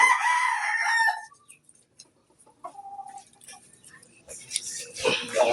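Chickens cluck and a rooster crows in a farmyard, the calls loud and close at the start and end with quieter clucking between.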